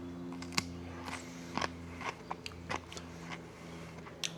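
Several crisp, sharp crunches as a dehydrated pickle chip is bitten and chewed up close, spaced irregularly over a quiet background hum.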